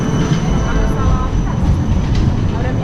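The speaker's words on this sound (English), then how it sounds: "Yes, trams coming on." Tram rolling along a street in Bern, a steady rumble of wheels and rails with faint squeals and clacks, passing close amid city noise.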